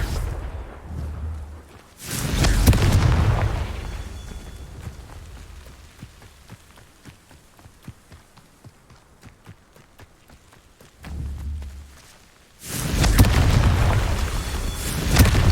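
Fire-spell blasts from Confringo cast in Hogwarts Legacy: two loud, deep booming explosions, one near the start and one near the end, with quieter footsteps and game ambience between them.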